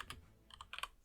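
Quick burst of keystrokes on a computer keyboard, a few separate taps then a short clustered run, close and fairly quiet with no talking.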